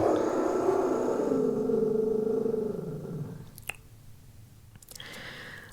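A dog's low growl rumbles close by for a few seconds and fades, then a couple of faint, brief barks from dogs outside follow.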